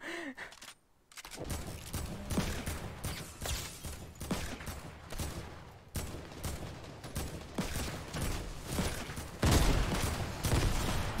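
Rapid gunfire crackles through a Fortnite match at Fatal Fields in repeated bursts and scattered single shots after a brief near-silence at the start, steady and moderately loud throughout.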